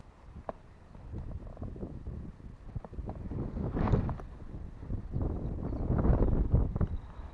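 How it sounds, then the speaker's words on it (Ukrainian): Low, gusty wind rumbles against the microphone while spin fishing for pike, swelling stronger toward the end, with faint rustling and a few light knocks. "Начебто вітер став менший."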